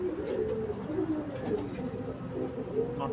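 Andhra and Madras pigeons kept indoors give soft, repeated throaty coos in uneven bursts, close and moderately loud, with faint room noise behind.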